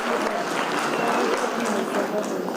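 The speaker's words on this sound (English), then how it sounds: "give yourselves a round of applause" Loud, continuous applause from a large audience of teachers in Botswana, with voices murmuring underneath the clapping throughout.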